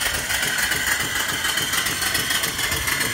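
A small steam engine driven by a homemade boiler near 100 psi runs steadily nearby, a continuous rapid chuffing and mechanical hum with no pauses.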